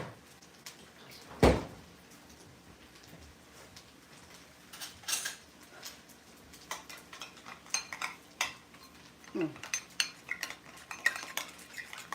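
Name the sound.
mixing chili, hoisin sauce with spoon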